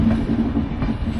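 A train rumbles at New Delhi railway station, loud and steady, with a rhythmic clatter of wheels over rail joints and a low mechanical hum throughout the short stretch.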